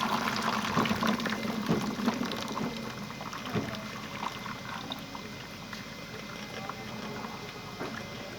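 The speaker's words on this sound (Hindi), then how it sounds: "एक मैंने टोकरी ली है, तो उसके अंदर हम इसका सारा जो पानी है वो इस तरह से निकाल देंगे" Water from boiled kachnar buds drains through a basket in a home kitchen, a steady splashing pour with irregular drips and clatter that continues for several seconds, close and unaccompanied by talk.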